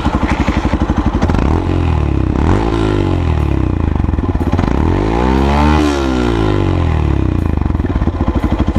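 Close to the exhaust, a Yamaha FZ-X motorcycle revs repeatedly, the note climbing and dropping in several sweeping blips over a thumping idle, loud and with no talk.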